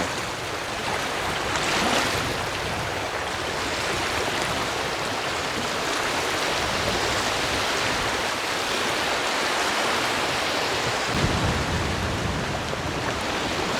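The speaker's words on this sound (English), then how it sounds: "it's surprising in a lake to see the waves coming in so powerfully" Powerful wind-driven waves roll steadily onto the lake shore at Lago de Sanabria, a loud, continuous wash of surf and rushing water with no pauses and no voices.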